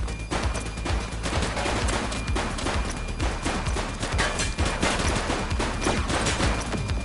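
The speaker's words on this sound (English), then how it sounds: "She's shooting!" Sustained, dense gunfire fills a shootout in the police game The Precinct, with rapid overlapping bursts and single shots cracking loudly and continuously without pause.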